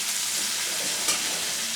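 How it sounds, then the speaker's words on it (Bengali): Prawns fry lightly in a pan with a steady, close sizzle of hot oil and a single brief sharper crackle partway through, with no one speaking. "হালকা করে ভেজে দেবো।"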